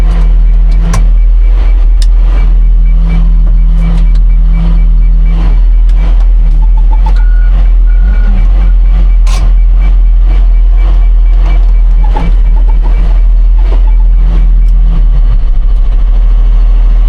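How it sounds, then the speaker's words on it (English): A Komatsu payloader's reversing alarm beeps steadily and loudly over its rumbling idling engine, close by and continuing for a long stretch, with no talking. "I don't know why it's beeping"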